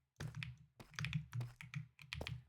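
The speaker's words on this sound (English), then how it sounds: "I'm sorry about the clicking" Computer keyboard clicking in bursts, rapid close taps grouped into several rhythmic runs with short pauses between, fairly loud and alone.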